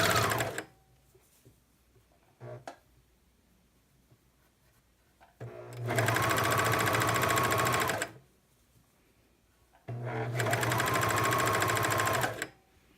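A sewing machine hums loudly and steadily while stitching a hem on a relaxed raglan garment, running in two long stretches separated by quiet pauses and shorter starts.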